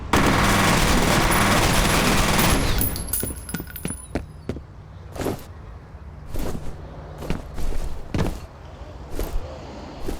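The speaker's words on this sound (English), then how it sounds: "Let's try the SMG." SMG submachine gun in the video game F.E.A.R.: a loud sustained automatic burst for about three seconds, then a scatter of sharp single and short bursts of shots with quieter gaps between.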